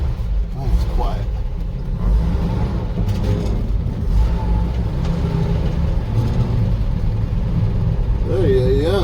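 A 1954 International 2.5 ton truck engine idling with a steady low rumble throughout, close and loud, while people talk over it near the end.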